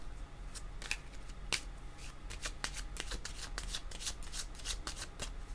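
Tarot cards being shuffled by hand, heard as a steady run of crisp, close riffling snaps at an uneven rhythm over a low background hum, with no talking.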